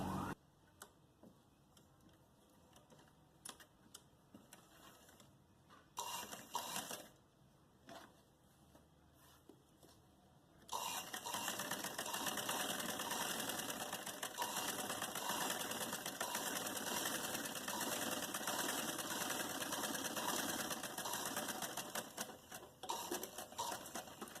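Sewing machine stitching a wide lace trim onto a bell-shaped umbrella sleeve, short bursts at first, then a long steady run of rapid mechanical chatter to the end.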